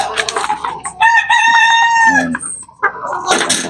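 A rooster lets out a long, loud, close crow amid nearby clucking hens at a backyard chicken coop during feeding time.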